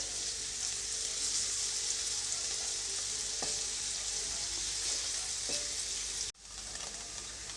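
Paneer fries in a pan over a medium flame, giving a loud, even, close sizzle with a few faint stirring knocks, cutting out briefly near the end before resuming.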